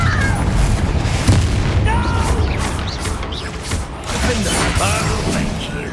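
A Confringo fire spell exploding in the video game Hogwarts Legacy, with booming blasts and rumbling impacts layered over dense combat effects and game voices.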